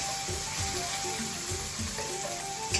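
Pounded garlic sizzling in hot oil in a pan for a Thai basil stir-fry, a dense steady crackle close up with a few scraping stirs, no voices.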